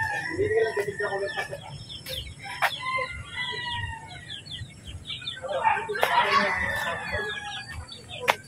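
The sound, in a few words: chickens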